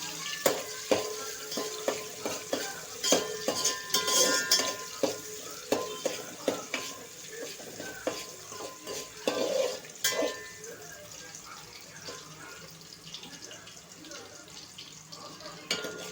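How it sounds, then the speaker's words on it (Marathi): Onion frying to light brown in a pan for masala pasta, with a soft sizzle beneath repeated spatula stirs and clanks that are busiest early on and then ease into a quieter fry. "आणि कांदा फ्राय करून घेणार आहोत"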